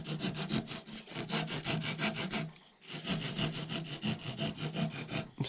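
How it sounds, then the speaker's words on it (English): A file rasps back and forth over a wooden peg for a powder horn, about a dozen quick rhythmic strokes close up, with one short pause partway through before the scraping resumes. "start filing it down."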